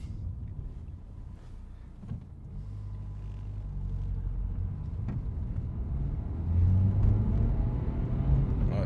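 A 2015 Dacia Logan MCV 1.5 dCi diesel with a particulate filter pressure sensor fault pulls away in first gear, its low engine rumble rising steadily in pitch and loudness over about nine seconds, heard from inside the car.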